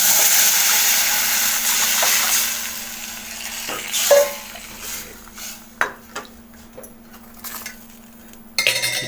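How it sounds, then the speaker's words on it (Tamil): Tamarind water poured into a hot pan of sautéed spices for pepper rasam: a loud hissing sizzle at first that fades, then scattered clinks and scrapes of a spoon against the pan. "இப்போ நம்ம கரைச்சி வச்சுருக்க புளி தண்ணி அதோடு ஊற்றிடுவோம்."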